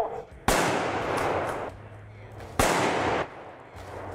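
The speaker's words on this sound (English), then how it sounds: "do not stop shooting until that coon is dead" Two loud gunshots fired at a raccoon during a nighttime coon hunt with dogs, each a sharp crack with a long rumbling echo, spaced about two seconds apart.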